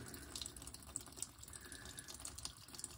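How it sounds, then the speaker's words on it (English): Old fuel drains out of a BSA Ariel 3 motorcycle tank in a faint, continuous trickle, with quiet splashing and no talking. "We'll let this drain out. We'll discard this fuel."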